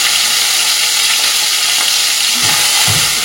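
Morla fish frying in mustard oil with black cumin in a wok, a steady loud sizzle running throughout with brief bubbling bursts near the end.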